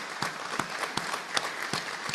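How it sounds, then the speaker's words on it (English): Applause at a Rotary Club of Gainesville meeting as new members stand to be welcomed: a steady wash of clapping with sharper pulses recurring roughly every third of a second, at moderate loudness and without talk. "Big round of applause"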